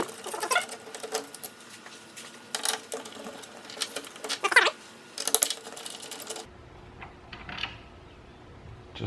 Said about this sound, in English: let's go ahead and remove these bolts